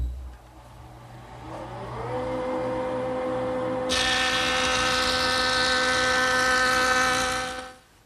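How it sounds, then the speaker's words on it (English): A jointer spins up with a rising whine, then its cutterhead bites into the edge of a large wooden panel in one loud, steady planing pass before winding down near the end. "So I'm going to make one pass over the joiner, a 32nd of an inch on each edge."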